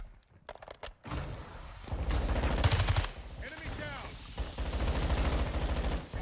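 MX9 submachine gun fire in the Modern Warfare 2 video game, with several loud rapid bursts separated by short gaps and mixed with in-game effects.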